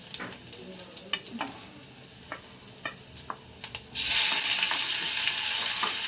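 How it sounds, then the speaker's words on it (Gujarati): Steady sizzling of green chillies sautéing in hot oil, with scattered crackles and pops that swell into a loud, continuous sizzle. "લીલા મરચાં પહેલાં સાતરી દઈશું આની અંદર થોડા"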